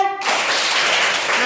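Hands clap together in a quick, steady flurry of sharp slaps, close and fairly loud, starting after a short tone.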